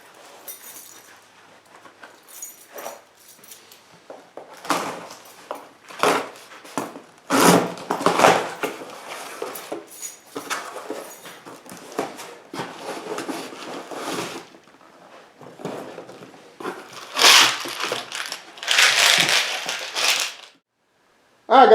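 Package holding a Kreg Jig K4 Master System and a pocket hole screw kit being unboxed. Cardboard rubs, crackles and crunches, and parts clink in bursts through the clip, close and fairly loud, with no talking.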